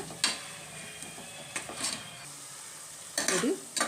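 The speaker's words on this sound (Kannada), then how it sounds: "ಮೆಂತ್ಯ ಸೊಪ್ಪು ಕೂಡ ಸ್ವಲ್ಪ ಫ್ರೈ ಆಗಿದೆ" Chopped fenugreek leaves stir-fried in oil, with a few scattered scrapes and clinks of a spatula against the pan over a faint sizzle, quiet and close.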